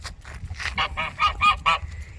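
A domestic goose honks in a rapid series of about seven loud, nasal calls, close to the microphone, over a low background rumble with no talking.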